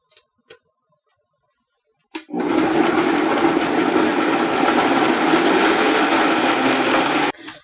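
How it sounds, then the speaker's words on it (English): A countertop blender runs at full speed puréeing tomatoes, chilies, garlic and sea salt for Mexican salsa roja, a steady loud whir lasting about five seconds after a couple of small clicks, then cutting off abruptly. "I blended the tomatoes and chilies"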